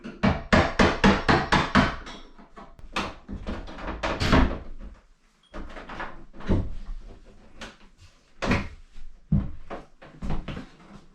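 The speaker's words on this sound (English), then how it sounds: "So let's take the other door out so we can put this one in." An old interior door being pulled out of its frame, with a rapid series of loud close knocks, bangs and wooden thumps, some in quick bursts and others spaced apart.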